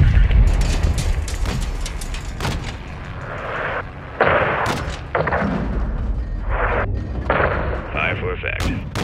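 Artillery fire in the video game Call of Duty: Modern Warfare II, a run of heavy, booming blasts and rumbling impacts spread across the clip, with a voice talking over the barrage.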